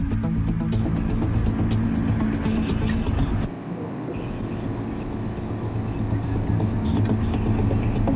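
Steady road and engine noise inside a car heading west on the I-94 interstate toward Bismarck during the morning commute, a continuous loud rumble that dips briefly partway through and then resumes.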